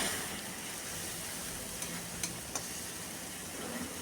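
Spice masala with fresh ginger and whole green chillies fries in a pan with a soft, continuous sizzle, broken by a few light stirring clicks.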